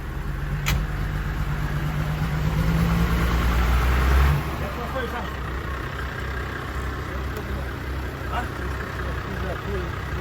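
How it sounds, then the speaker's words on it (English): A Lamborghini machine hauling a load of rock runs with a steady mid-pitched engine drone and rumble, a heavier low hum dropping off partway through, amid continuous outdoor noise. "Let the Lamborghini pull it right out."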